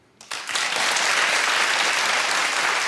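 A large live audience suddenly erupts into loud, sustained clapping that swells within half a second and stays at full strength throughout.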